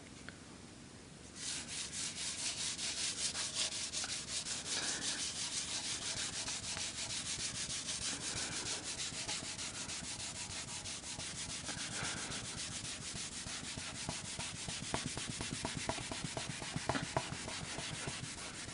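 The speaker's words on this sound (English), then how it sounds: "it's better remove with rubbing alcohol so it doesn't smear as much" Marker ink being rubbed off a surface with rubbing alcohol, a steady close scrubbing sound that starts after a brief quiet moment and keeps an even rhythm throughout, with no talking.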